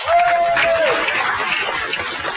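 A television studio audience applauds contestants on a 1992 kids' game show, a steady crowd clapping under a bright sustained tone and some voices.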